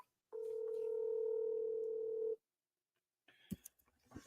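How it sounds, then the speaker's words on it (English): A steady telephone dial tone hums for about two seconds while a call is placed, then cuts off into silence before brief clicks and noise as the line connects. "Let's get him on the phone."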